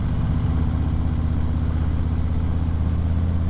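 A 2025 Harley-Davidson Breakout motorcycle engine drones steadily while riding, a constant low rumble with wind noise, close and continuous.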